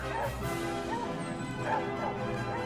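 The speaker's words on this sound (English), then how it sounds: "Hearing the loud barking of the hunting dogs, I moved closer." Hunting dogs bark at nightfall in open grassland, a few scattered yelps and bow-wows carried over a steady noisy background, moderately distant rather than close.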